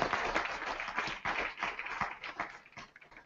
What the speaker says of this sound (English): give everybody a nice round of applause